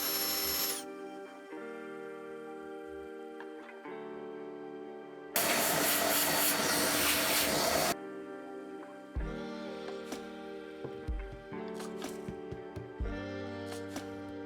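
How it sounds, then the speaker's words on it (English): A power drill whirs in several runs drilling holes into a 1980s lathe saddle, with one harsh, grinding burst in the middle and scattered clanks between. "I need to drill 2 holes into the saddle"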